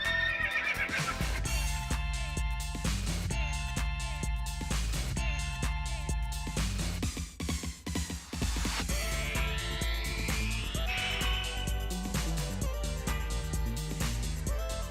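Game music plays throughout a horse-riding video game linked to Uma Musume, with a horse's neighs mixed in and faint hoof clip-clop under the steady soundtrack.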